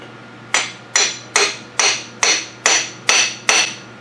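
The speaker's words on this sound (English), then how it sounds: "Just about to pop out the axles." Eight sharp metal hammer blows ring out at an even, quick rhythm as a car's axles are knocked out during teardown of a 3.0 engine, each strike loud and close with a short ringing decay.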